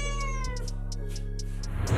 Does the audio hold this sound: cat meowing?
yes